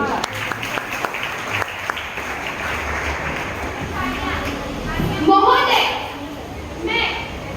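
Applause for students at a Hindi Day school event in Kurla, a light scattered clapping under background voices and children's chatter, with a speaking voice rising near the end.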